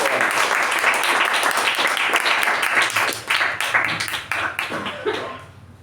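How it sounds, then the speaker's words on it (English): Meeting attendees break into loud, dense applause that holds for several seconds before thinning out and dying away at the end. "Can we have a huge round of applause?"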